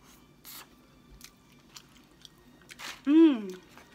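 Someone eats a blue-coloured dish mixed with brown rice, with soft close-up chewing and mouth noises spread through the clip and a louder vocal hum near the end.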